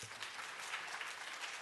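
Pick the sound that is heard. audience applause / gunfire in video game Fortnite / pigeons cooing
audience applause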